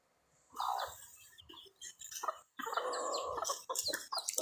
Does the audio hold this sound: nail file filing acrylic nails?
no